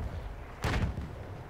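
A single explosion from Battlefield 1 artillery fire bursts out as a short, muffled boom, heard once over a low, steady game background.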